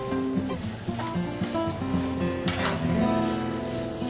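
Steak sandwich ingredients sizzle in a pan while being stirred, a close, steady frying hiss with occasional light scrapes and clinks of the utensil.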